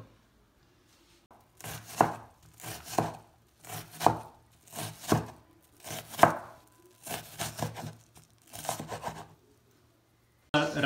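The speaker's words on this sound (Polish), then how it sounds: "teraz możemy przejść do pokrojenia cebuli razem z czosnkiem i to wszystko musimy pokroić na bardzo, bardzo drobną kostkę" Knife chopping onion and garlic into very fine dice on a board, in quick bursts of rapid crisp taps separated by short pauses, close and clear with no talking.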